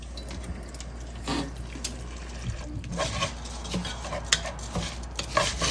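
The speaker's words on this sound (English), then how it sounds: "if it's really dry, you might want to just add in a bit of water." Water trickles and splashes into a pot of rice for Chamorro red rice, with light clinks of utensils and stirring close by, no voices over it.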